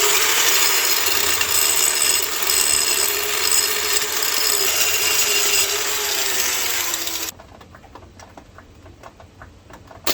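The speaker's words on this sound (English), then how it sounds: "let's do a little grinding" Metal grinding on a 1990 Chevy K1500 truck near a seized wheel: a harsh, continuous abrasive whir runs for about seven seconds, then cuts off abruptly, leaving faint scattered clicks and background noise.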